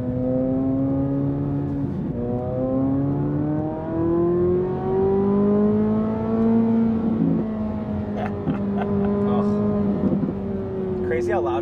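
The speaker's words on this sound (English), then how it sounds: "So we are in track mode exhaust, so this is valves open." A Chevrolet Corvette Z06 in track mode with exhaust valves open drones loudly from inside the cabin, engine pitch rising and easing through steady acceleration, with people talking over it.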